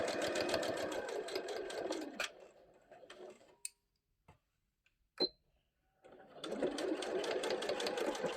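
A sewing machine stitches a fabric storage caddy in close, rapid bursts, stopping midway for a few seconds of near silence broken by single clicks before the stitching starts up again.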